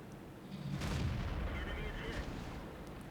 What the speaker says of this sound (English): I'm going to have some shots at him.